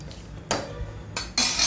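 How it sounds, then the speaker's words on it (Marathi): A ladle stirs dal in a metal cooking pot, making two or three brief scraping clinks against the pot rim amid quiet pauses, close and fairly soft. "डाळ चांगली ढवळून घेणार आहे"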